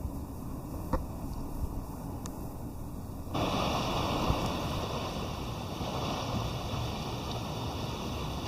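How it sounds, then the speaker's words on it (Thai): Sea surf at Miami Beach in the morning makes a faint continuous wash that grows slightly louder partway through, with no voices. "มันเป็นคลื่นหน่อยๆ"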